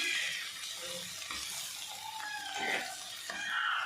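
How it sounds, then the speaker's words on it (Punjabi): Onions sizzle and are stirred in a pan while cooking baingan bharta, a soft, quiet crackle with a few scraping stirs and no talking. "ਪਿਆਜ਼ ਸਾਡੇ ਭੁੱਜ ਗਏ ਹਨ"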